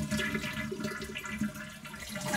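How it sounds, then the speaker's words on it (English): A toilet with its water supply shut off flushes with the handle held down, giving a faint, steady gurgling drain of water for a couple of seconds, heard alone and fairly quiet. "Then go ahead and flush the toilet and get as much of the water out as you can."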